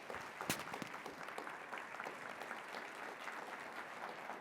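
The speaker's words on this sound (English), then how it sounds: "Applause for their leadership." Audience applause at a University of North Dakota event, a soft, fairly distant patter of many hands clapping steadily, with one sharper clap standing out early and no one speaking.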